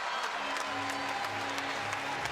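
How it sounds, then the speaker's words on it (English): Crowd applause fills the Singapore Indoor Stadium at the end of a grappling fight, a steady wash of clapping and cheering that holds throughout at moderate distance. "And applause right around the Singapore Indoor Stadium."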